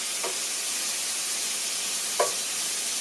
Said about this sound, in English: These are 3 big turkey burgers, and I like to grill some onion with the burgers.